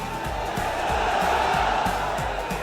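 An audience in Qatar cheers and roars as superstar Shakib Khan takes the stage. Loud, sustained crowd noise carries whoops and rhythmic claps throughout.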